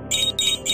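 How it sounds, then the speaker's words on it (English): Bell ringing in the I Spy Fantasy video game: bright, clear chiming tones in three quick repeated strikes, close and moderately loud, with no talk over it. "A bell."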